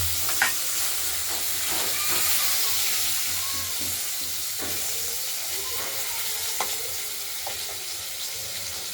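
Potatoes fry in a pan for a home-style rohu fish curry, giving a steady, moderate sizzle with faint crackles throughout and no voices.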